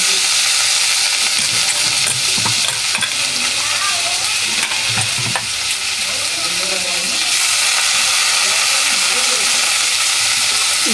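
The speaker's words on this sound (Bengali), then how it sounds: "এবার জল ঝরানো ভাজা মুগ ডালটা তেলের মধ্যে ছেড়ে দিচ্ছি।" Drained, fried mung dal tipped into hot oil in a pan, a loud continuous sizzle with clinks and scrapes of stirring, close up.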